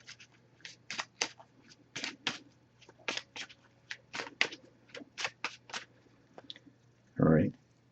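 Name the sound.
shuffling an oracle card deck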